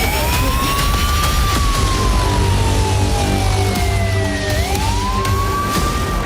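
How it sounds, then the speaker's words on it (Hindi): Sirens wail across Ukrainian cities, a rising and falling tone sweeping up and down over a steady roar of background noise, loud and continuous throughout. "लेकिन अचानक यूक्रेन के कई शहरों में सायरन बज उठे।"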